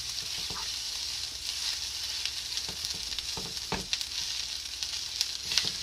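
Shrimp fried rice sizzles and crackles steadily in a hot pan, close and continuous, with scattered sharper pops and scrapes of stirring.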